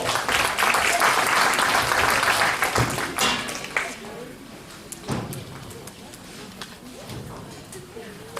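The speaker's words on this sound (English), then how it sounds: "Let's give all 4 of these exhibitors a round of applause." A crowd applauds the four exhibitors at a 4-H/FFA steer and market hog show; dense clapping fills the first three seconds, then fades into scattered thumps, livestock shuffling and faint voices in the arena.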